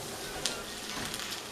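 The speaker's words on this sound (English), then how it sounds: "I love frying them in my cast iron" Salmon patties fry in a cast iron pan with a steady, soft sizzle and crackle that holds at an even level throughout, with a couple of sharp pops.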